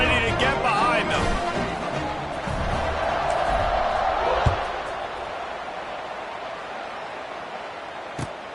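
A roaring stadium crowd in the NCAA 26 college football video game swells and holds around kickoff, loud and continuous, with a couple of sharp thuds.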